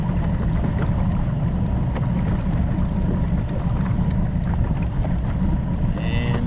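A motorboat cruises along a creek channel on a lake, its engine a steady, even drone mixed with rushing wind and water noise throughout.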